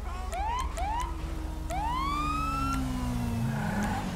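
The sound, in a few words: police car siren in video game GTA5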